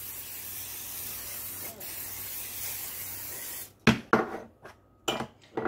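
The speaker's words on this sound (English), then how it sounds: "spray it with a little bit of canola oil spray" Canola oil cooking spray misted over cooked red potatoes on a roasting tray, several short sharp hissing bursts near the end following a stretch of steady background hiss.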